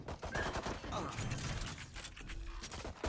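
Gunfire in a Valorant esports match, quick clusters of sharp shots mixed with game effects, heard under a caster's fast commentary.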